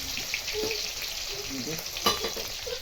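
Okra sizzles and spatters as it fries in hot oil in a home kitchen pan, a steady close crackle with occasional stirring scrapes and no talking.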